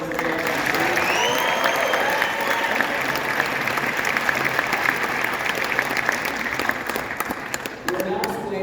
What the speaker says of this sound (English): Let's give one more round of applause for our candidates.